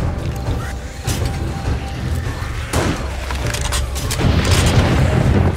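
A zombie cop explodes during a blood moon in the game 7 Days to Die with the Darkness Falls mod. Dense, loud booming and crashing rumble on throughout, with sharp bursts and debris-like clatter swelling near the end.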